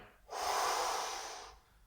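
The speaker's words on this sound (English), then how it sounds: "Breathe out through the chest and the lower stomach." A single long, forceful exhale pushed out through the chest and lower belly during a vacuum breathing exercise, a close, breathy rush lasting about a second and a half.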